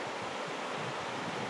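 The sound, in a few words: strong river current flowing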